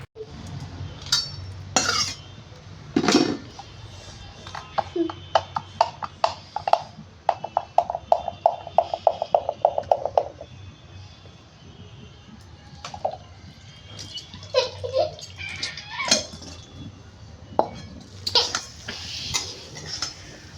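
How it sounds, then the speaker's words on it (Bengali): Rice stirred in ghee in a hot wok produces metal scrapes and clinks, including a quick rhythmic run of taps in the middle, with quieter stirring on either side. "ঘিয়ের মধ্যে আমি নাড়াচাড়া করে নিচ্ছি"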